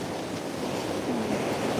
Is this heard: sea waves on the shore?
yes